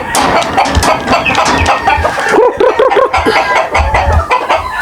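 Spangle gamefowl broodcocks and other chickens on a breeding farm, a dense close chorus of clucking with a rooster's repeated calls rising in the middle.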